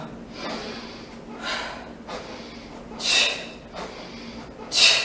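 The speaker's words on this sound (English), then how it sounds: "You want to inhale when the bell lowers and exhale when the bell comes up." Forceful exaggerated breaths during kettlebell swings rise and fall in a steady rhythm, inhaling as the bell lowers, with sharp, loud exhales as it comes up every couple of seconds, close up.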